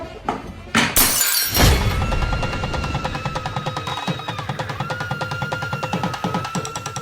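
Glass tumblers shatter on a home kitchen floor while dishes are being cleared: one loud, close crash that rings out briefly, followed by a steady murmur of background sound.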